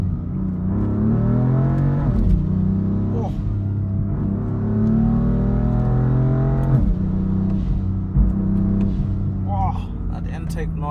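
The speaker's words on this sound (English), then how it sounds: "Intake noise is so insane." A 2017 BMW M4 Competition's engine revs and drones loudly with heavy intake noise, pitch rising and falling with each throttle push in traffic, with a voice talking over it.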